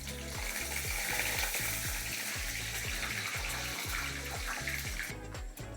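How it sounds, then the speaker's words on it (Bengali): Whole spices tempering in hot oil (bay leaves, dried red chillies, black peppercorns, cinnamon, cloves, cardamom and cumin seeds), giving a dense, loud, steady crackling sizzle throughout, without voices. "ওই তেলেই যে দিয়ে দিচ্ছি দুটো তেজপাতা, দুটো শুকনো লঙ্কা, গোটা গোলমরিচ, গোটা দারচিনি, লবঙ্গ, এলাচ আর গোটা জিরে।"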